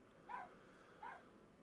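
A dog barks twice in the distance, two faint, short woofs about a second apart over a quiet indoor room tone.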